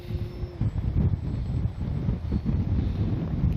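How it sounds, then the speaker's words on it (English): Gusty wind buffets the microphone at an outdoor RC flying field where an FMS Ranger 1220 V2 model plane is being flown, a steady low rumble with heavier bursts throughout and no speech. "A little too windy."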